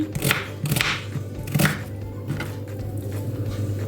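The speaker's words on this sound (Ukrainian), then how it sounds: "І тепер до е, м'язка нарізаємо цибульку." Onion is chopped into pieces on a board with a knife, in several distinct thuds at an uneven pace, close by and fairly clear.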